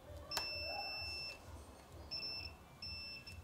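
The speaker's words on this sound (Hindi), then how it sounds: "इसके अंदर से बीप साउंड सुनाई दे रहा है" A multimeter on continuity mode sounds repeated high-pitched steady beeps while its probes test a diode on an LG monitor power board, with a faint background hum and no talking.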